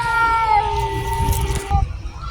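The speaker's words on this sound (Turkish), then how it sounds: "Bakın bu da bizim kedi." A cat meows once in a drawn-out, tonal cry, close by, with faint background noise.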